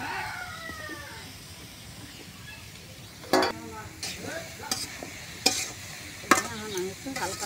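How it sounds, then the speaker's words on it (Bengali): Gourd pieces sizzle in a frying pan while a utensil stirs and scrapes them in a few sharp, irregular strokes over a steady frying hiss, close up. "আমি একটু হালকা লাড়াচাড়া দিয়ে"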